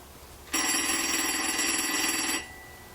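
A Green 236G three-slot coin telephone rings for an incoming call, its mechanical bell producing a loud, rapid metallic trill for about two seconds before stopping.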